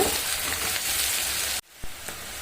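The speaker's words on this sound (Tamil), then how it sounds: "இப்போ வெங்காயம் பாதி வதங்கிடுச்சு ஸ்டவ் கொஞ்சமாக மீடியம் ஃப்ளேமில் வச்சுட்டு நல்லா செவக்க வதக்கிடுங்க" Onions sautéing in a pan on a medium flame, a steady close sizzle that cuts off abruptly near the end, followed by a brief stir and a quieter hiss.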